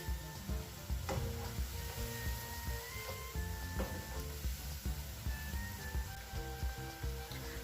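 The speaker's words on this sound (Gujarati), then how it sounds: "અહીં આપણે આ મંચુરિયન બોલને ક્રિસ્પી એવા તળી લઈશું।" Veg Manchurian balls deep-frying until crisp in hot oil, a steady close sizzle broken by occasional clinks and scrapes of a utensil, with no talking.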